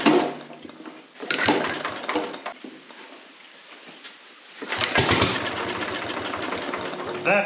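A 1957 Gard'n Mast'r garden tractor engine, parked for decades, sputters and fires in short bursts, dropping out for a stretch and then catching again loudly near at hand, with people talking over it.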